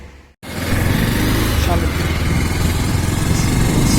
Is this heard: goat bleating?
no